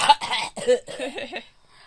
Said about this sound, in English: Thanks for enduring our coughing here and there.